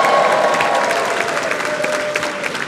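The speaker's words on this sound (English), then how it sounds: "I don't know if you want to keep clapping." A comedy club audience breaks into sustained applause, a dense, even wash of many hands clapping close and loud with faint crowd murmur underneath and no break for nearly three seconds.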